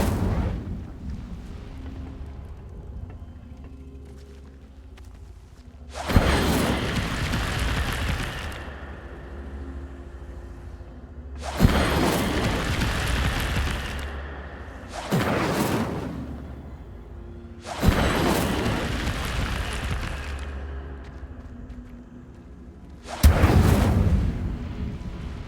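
Five separate Incendio fire-spell blasts in Hogwarts Legacy, each a loud roaring burst lasting a couple of seconds, spaced several seconds apart over a steady quieter game ambience, with no talk.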